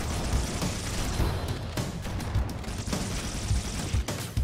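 Dense, continuous gunfire from a Halo shooter game, with rapid overlapping shots and a few heavier booms punching through at close range, sustained loud throughout.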